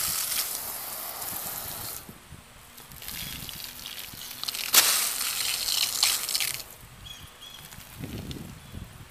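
Water runs and sheds off the waxed paint of a truck, a steady broadband wash that swells and fades in waves, close by, with no talking.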